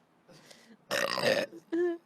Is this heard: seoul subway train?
no